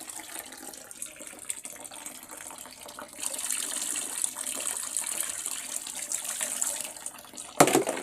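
Water runs steadily from a tap while laundry is done, a continuous close rush that swells louder partway through, then a brief sharper splash near the end, with no talk.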